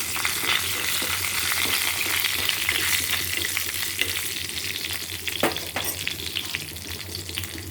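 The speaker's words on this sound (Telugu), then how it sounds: "ఇప్పుడు కొంచెంసేపు ఇలానే ఫ్రై చేసుకోవాలి" Mustard seeds, cumin, curry leaves and coriander fry in a pan, giving a steady, loud sizzle with faint crackles and occasional stirring scrapes, close by and with no talk.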